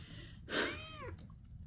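A single short cat meow, close and fairly quiet, rising then falling in pitch over a low background hum.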